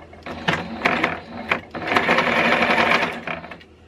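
A sewing machine hems the tucked-under bottom edge of a t-shirt, its motor whirring in close, loud bursts that stop and start several times, with a long steady run in the middle.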